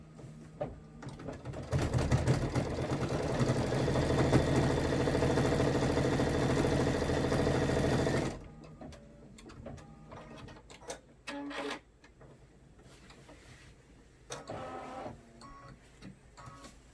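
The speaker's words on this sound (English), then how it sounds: "I can just hit start, and it'll start sewing, no problem." An embroidery machine stitches out a design on a party hat piece, whirring loudly and steadily for several seconds before stopping abruptly, leaving faint clicks and handling noises.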